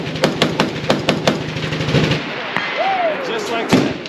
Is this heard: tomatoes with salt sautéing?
no